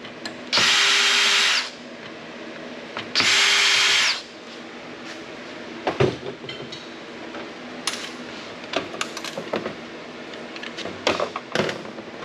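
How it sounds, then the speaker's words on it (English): A power drill fitted with a Torx bit whirs in two short, loud bursts while removing screws from an older Dell Dimension PC, followed by scattered clicks and metallic handling of loose parts. "I keep a drill already loaded with a Torx head for these"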